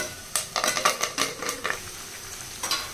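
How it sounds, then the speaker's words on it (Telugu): Curry leaves and dried chilies fry in oil over a low flame for a tomato pickle tempering, a soft sizzle broken by a quick run of spoon scrapes and clinks against the pan. "ఇప్పుడు కరివేపాకు వేసుకోవాలండి"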